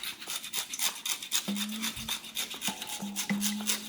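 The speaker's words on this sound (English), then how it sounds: "we're gonna grate some Parmesan" A block of Parmesan is rubbed against a grater in rapid, steady rasping strokes, close and fairly quiet, with a faint steady tone in the background.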